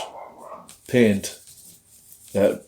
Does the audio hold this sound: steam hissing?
no